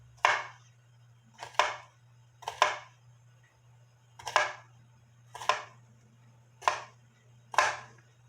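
A kitchen knife chops an onion on a cutting board, leaving the tip end uncut: seven crisp, evenly spaced chops sound close and clear over a steady low hum.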